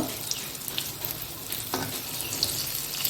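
Onion and plantain fritters frying in hot oil, a close, dense sizzle with a few stirring scrapes and bubbling bursts throughout, and no voices.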